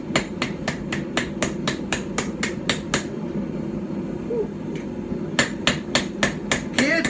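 Hammer blows ring out on a knife blade being flattened on a small stump anvil during Anglo-Saxon/Viking-style forging, a rapid run of sharp, evenly spaced metallic strikes, a pause, then another quick burst, close and loud.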